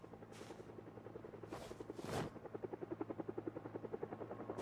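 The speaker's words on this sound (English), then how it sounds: "That's when the helicopter showed up." A helicopter in a zombie survival video game approaches, its rotor thumping in a steady, rapid pulse that grows louder and more distinct, with a brief whooshing burst partway through.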